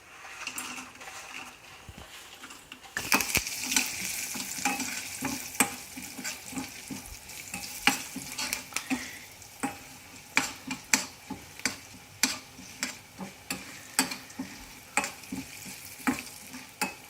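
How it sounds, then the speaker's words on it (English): Tadka spices sizzling in hot oil, a loud crackle bursting in after a quiet start, then steady rhythmic tapping of a spoon against the pan as it is stirred. "The tadka oil is heated up. Adding all the tadka ingredients."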